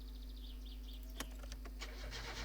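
A car engine in the My Summer Car game cranking and catching after a fault, a few quiet clicks then a brief starter whir turning into a low idle, faint and close with birds chirping.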